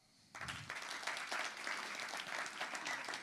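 Applause breaks out from a concert audience at a live music venue, starting abruptly and holding as a continuous wash of clapping with a long, reverberant room tail, fairly distant and soft.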